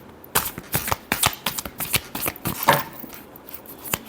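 A deck of tarot cards is shuffled by hand in a quick series of crisp, riffling flutters and taps, close and clear, with no talking.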